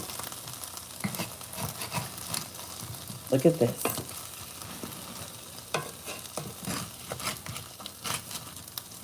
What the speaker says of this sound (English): They're sizzling up.